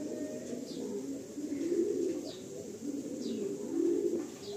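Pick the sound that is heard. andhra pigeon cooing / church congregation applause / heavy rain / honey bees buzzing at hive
andhra pigeon cooing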